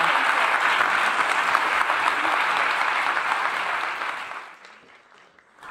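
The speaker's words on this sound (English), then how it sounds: "can we please give them one last round of applause?" A final round of applause from a festival audience for explorers on stage, a dense steady wash of clapping that swells fully and then tapers off and fades away toward the end.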